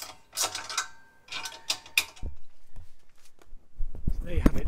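A rear view camera mount on an AVAN Aspire 555 caravan is tightened by hand, with close clicks, ratcheting and rattling taps, and someone talks over it.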